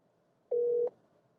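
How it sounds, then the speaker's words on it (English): A single short electronic tone, about a third of a second long, sounds through a Lexus in-car system as an outgoing phone call starts over Apple CarPlay, steady and clean against near silence. "Hey Siri, call Sarah. Calling Sarah. Mobile"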